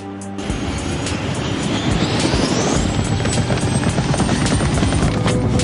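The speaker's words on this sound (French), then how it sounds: "Venez, nous allons prendre mon hélico." A helicopter starts up in the cartoon Totally Spies, its rotor chop and engine whine building quickly into a loud, continuous thrum with a rising pitch sweep.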